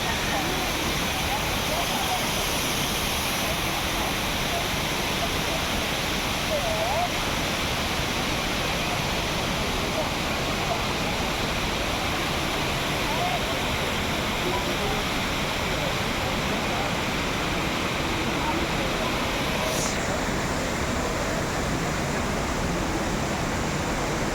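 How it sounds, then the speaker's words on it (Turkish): Indoor waterfall inside Jewel Changi airport gives a constant broad rushing roar, steady and enveloping, filling the space for the whole stretch with no clear voices. "Kapalı bir mekanda şelale oluşturmuşlar."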